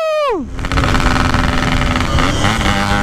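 Motorcycle with an open, direct exhaust fitted with BRT parts: a sharp high rev drops away within half a second, then a loud, steady rumbling exhaust note continues. Faint voices come through underneath.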